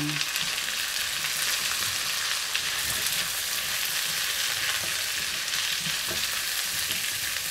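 Onions sautéing in a frying pan give a steady, close crackling sizzle that holds an even level throughout. Faint stirring scrapes sit beneath it, and no one speaks.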